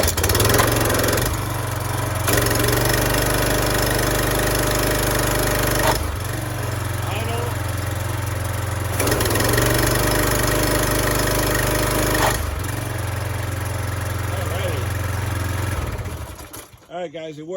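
A Briggs & Stratton Quiet Sense lawn mower engine idles with a steady, loud low rumble, dipping briefly at a few points before cutting out at the very end.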